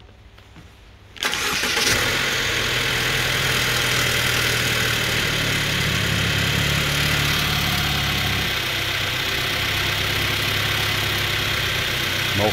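A 2017 Mercedes GLC 250 with 64k km cranks briefly and fires up, then settles into a steady, even idle close by, with no talking over it.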